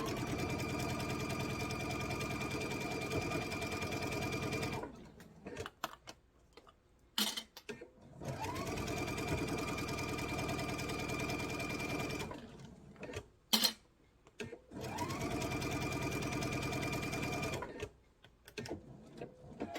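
A sewing machine runs a quarter-inch seam on a lavender garden table runner, whirring loud and close in long continuous runs broken by short pauses and scattered handling clicks.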